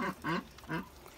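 Pekin ducks in a backyard coop quacking, with three short nasal bursts in quick succession, fairly close and with no talking.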